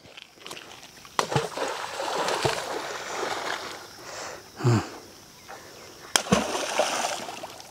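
A stone is thrown into water where a net is set to catch crocodiles, landing with a short, close splash amid faint sloshing and outdoor noise, along with a few sharp knocks.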